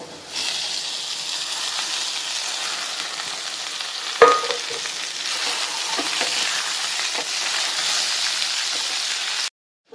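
Ivy gourd deep frying in hot oil, a steady close hiss and sizzle with a sharp knock partway through, cutting off abruptly near the end.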